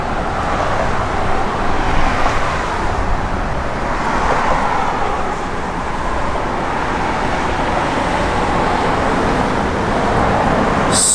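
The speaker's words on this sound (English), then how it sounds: "talk about a fun truck to drive, and it hits the road." A 1991 Dodge D150 pickup with its original 318 engine drives along the road, producing a steady, loud broadband rumble of engine and tyre noise that holds for the whole stretch with no talking.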